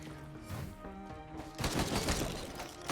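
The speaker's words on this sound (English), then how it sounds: "Fireworks." Fireworks bursting in the Risk of Rain 2 video game, a dense crackling barrage that swells in the second half of the clip, loud and close over tonal game music.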